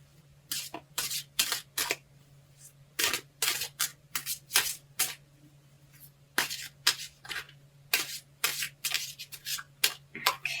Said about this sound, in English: let's get shuffling here